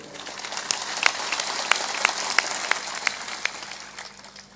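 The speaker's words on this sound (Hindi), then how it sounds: "थोड़ा जोर से ताली बजाया करो।" Scattered claps from an audience at a Hindu spiritual discourse crack out irregularly over a soft, hissing room background. The clapping is sparse and loose rather than a full ovation.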